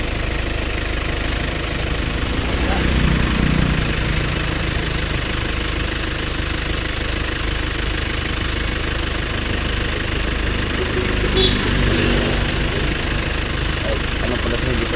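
A motor engine running close by, a loud, steady low droning hum with a slight rough vibration that continues unchanged throughout.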